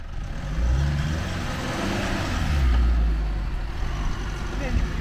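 A Mitsubishi L200 pickup's 4N15 turbodiesel engine, paired with a six-speed manual gearbox, revs with a low rumbling swell that rises and falls, with someone talking over it.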